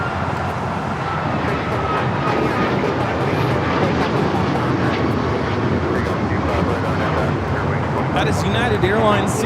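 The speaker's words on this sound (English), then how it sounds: "That is United Airlines 1621 taking off to Orlando, Florida on the MAX 9." United Airlines Boeing 737 MAX 9 taking off from LAX bound for Orlando, its engines producing a loud, sustained roar that swells slightly toward the end, with speech faintly underneath.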